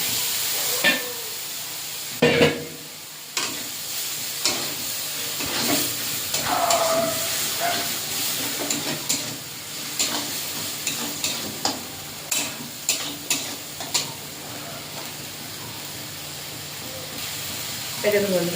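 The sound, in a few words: frying cumin spice paste in a pan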